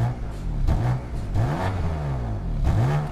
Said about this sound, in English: Give you a couple revs.